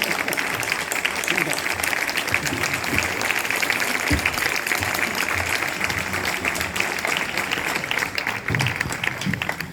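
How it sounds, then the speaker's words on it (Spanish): Sustained applause from a seated audience at an outdoor poetry evening in a garden, a dense steady wash of many hands clapping throughout, with scattered murmurs and voices underneath. "les voy a dar un aplauso muy fuerte"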